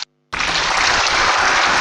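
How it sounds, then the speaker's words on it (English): After a brief silence, an audience at an African Union chairmanship debate breaks into a loud, sustained round of applause for the candidates, thick, uniform clapping from a large crowd that holds steady to the end. "I ask that you give them another round of applause"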